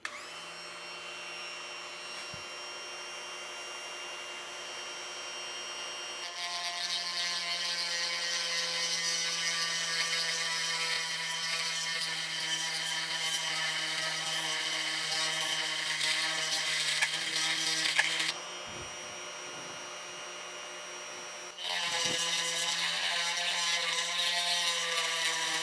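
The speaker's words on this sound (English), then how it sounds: "a Dremel tool with a 5/32 chainsaw sharpening bit in it" A Dremel rotary tool with a 5/32 chainsaw sharpening bit whines steadily with a high grinding buzz while cutting a choil on a Bowie knife, running for a long stretch, briefly dropping in pitch before revving again.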